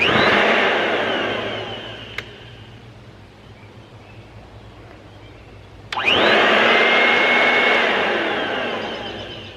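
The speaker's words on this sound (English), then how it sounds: "my Kirby's turned out to be a really great little vacuum cleaner" A vintage Kirby vacuum cleaner motor roars steadily, winds down to a low hum, then switches back on with a click and whines loudly up to full speed.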